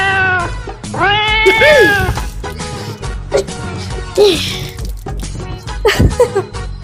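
A cat meows repeatedly in drawn-out, plaintive cries, close by, with a few quieter mews and faint background noise between them.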